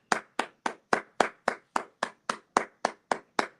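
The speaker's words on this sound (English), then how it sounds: "clap it up" A group clapping hands in unison, a steady rhythm of about thirteen sharp, even claps over a few seconds, loud and close with no talk.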